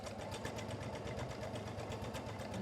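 A sewing machine runs steadily through fabric, finishing a side with a short back stitch; a fast, even needle rhythm carries through the whole stretch without pause, close and moderately loud.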